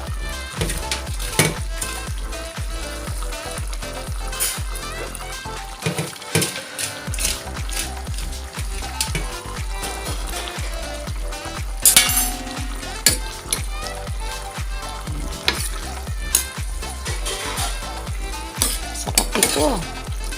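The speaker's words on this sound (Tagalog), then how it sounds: "Pwede na natin ihulog ang ating malunggay." Moringa leaves and papaya cook in a pan with a steady close sizzle and frying crackle, punctuated by scraping and stirring clatter throughout.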